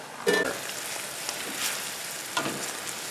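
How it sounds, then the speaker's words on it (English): Cooked pasta hits a pan of amatriciana sauce with a loud sizzle, then steady frying crackle with a few soft stirring scrapes, close and without talk. "Now it's time to dump the pasta."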